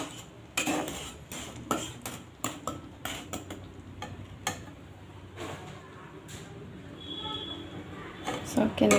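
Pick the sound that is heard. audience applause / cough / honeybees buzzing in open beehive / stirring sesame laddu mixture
stirring sesame laddu mixture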